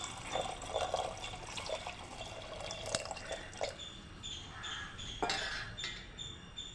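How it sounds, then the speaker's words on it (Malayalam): Water is poured into a pot of green chilli and shallots for cooking lentils, heard as close, uneven splashing and trickling with a few sharp drips and clinks, fairly quiet with no voices. "ഇനി ഇതിലേക്ക് പയർ വേകുവാനുള്ള വെള്ളം ഒഴിച്ചു കൊടുക്കാം."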